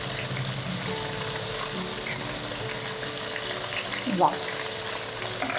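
Paneer popcorn deep frying in hot oil makes a constant, even sizzle and bubbling that runs throughout, while people talk over it.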